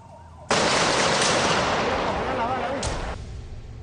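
Gunfire in 2002 news footage from Venezuela, filmed from a rooftop, heard as a sudden loud burst of noisy shots and crackle that starts abruptly and holds under a siren-like wail, with a further sharp report near the end.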